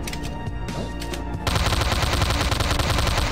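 Pistol fire in the video game Slendytubbies 3: a few scattered shots at first, then a rapid, continuous stream of loud, close cracks fills the rest.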